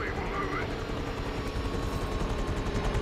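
Helicopter rotor drone in a Modern Warfare 3 campaign mission, a steady, fairly quiet whir held throughout with faint game sounds mixed in.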